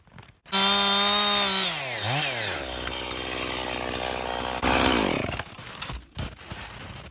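A chainsaw with badly sharpened teeth is cutting wood. The engine snarls up to a high whine, dips and rises again, then settles into a strained, buzzing cut. It ends with a final rev and a few clattering knocks, close and loud throughout.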